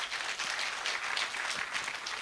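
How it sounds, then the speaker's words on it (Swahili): Loud, dense applause from a crowd welcoming a senator at a UDA political rally, a steady wash of clapping that holds throughout with no voices over it. "Makofi mazuri kabisa ya seneta wetu."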